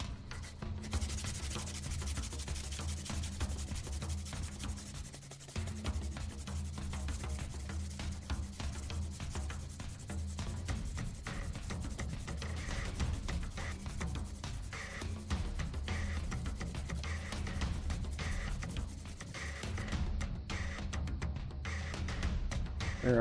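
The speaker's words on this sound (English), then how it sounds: "I start out with 400 grit sandpaper, and then I move on to 800 grit just to get that rounded up nice and easy." Fine 400 to 800 grit sandpaper rubs steadily against the end of a handmade lock pick, rounding and polishing the metal in a continuous quiet scratchy rasp with fast back-and-forth strokes and no talking.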